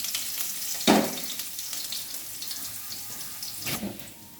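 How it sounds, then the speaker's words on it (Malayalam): Mustard seeds splutter in hot oil in a pan for a Kerala ivy gourd thoran. Two sharp crackling bursts rise over a quieter continuous sizzle, close by, with no voices. "കടുക് പൊട്ടിക്കൊണ്ടിരിക്കുന്നു"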